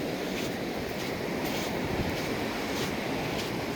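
Ocean surf washes steadily onto a California beach near the Oregon border along the Smith River coast, a continuous broad roar with faint wind and no talk.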